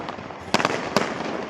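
Firecrackers go off at a wedding celebration: two sharp bursts about half a second apart cut through a steady crackling background, fairly close and loud.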